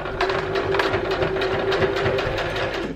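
Sewing machine back stitching ribbon onto a contoured fabric face mask, a steady close motor hum with rapid needle clatter running throughout, no talk.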